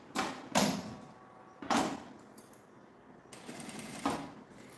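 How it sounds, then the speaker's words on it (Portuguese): A sewing machine stitches bias binding onto fabric for a toiletry case, running in three short, loud bursts separated by quieter pauses, with no talking. "Vou passar uma costurinha aqui na viradinha."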